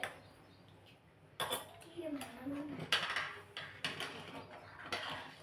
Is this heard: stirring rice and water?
yes